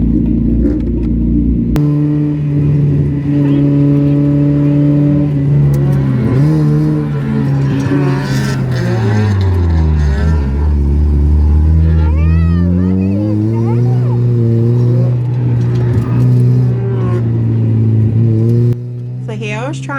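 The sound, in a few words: Mazda Miata drift car engine revving on track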